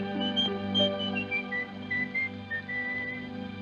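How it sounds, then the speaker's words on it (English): A man whistles the medieval English tune Sumer Is Icumen In, a clear melodic line of held and sliding notes over a steady low musical backdrop, carrying on throughout. "he's whistling Sumer is a Coomin' In"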